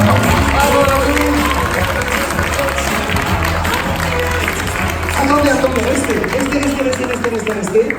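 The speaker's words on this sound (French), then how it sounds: "on peut les applaudir déjà les chefs chinois qui sont venus" A crowd applauds visiting Chinese chefs at a gathering, with sustained clapping and some cheering under loud crowd chatter and a voice speaking over it.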